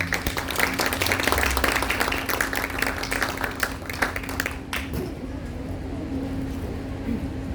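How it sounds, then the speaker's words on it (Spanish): Dense, steady applause from an audience welcoming a speaker at a book presentation, many hands clapping together for several seconds before thinning out into a quieter room hum. "Lo recibimos con un fuerte voto de aplausos"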